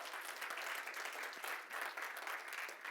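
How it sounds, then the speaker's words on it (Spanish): A church congregation claps in praise during a Spanish-language sermon, a faint but continuous wash of applause with no talk over it. "¿Cuántos le dan un aplauso al Señor?"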